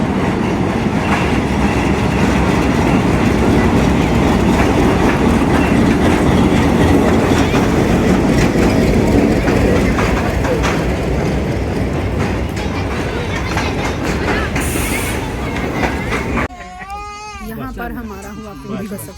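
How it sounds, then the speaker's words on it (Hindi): A train rolls along its rails in Pakistan, heading toward Lahore, with a loud, close rumble and rhythmic clatter; near the end the noise drops and a voice is heard. "आप ट्रेन की आवाज़ सुनो।"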